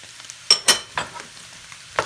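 Chopped onion and green and red bell peppers hitting hot oil in a frying pan with potatoes and longaniza sausage, giving a few sharp crackling sizzles and stirring scrapes, close and loud.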